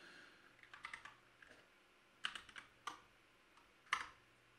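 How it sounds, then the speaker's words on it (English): Scattered bursts of quiet keystrokes on a computer keyboard while text is typed into an editor, irregular and close, with short pauses between clusters. "We do some typing."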